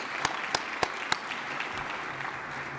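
An audience at a foundation's tenth-anniversary awards gala gives a brief round of applause. A few sharp, scattered claps quickly thin into a quiet room murmur.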